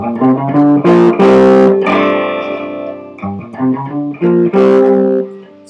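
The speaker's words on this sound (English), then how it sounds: "So you can hear the distortion going into the speakers." Distorted electric guitar played through an amp and speaker cabinet with an attenuator, loud crunchy chords and single notes in short bursts with gaps between phrases, no talking.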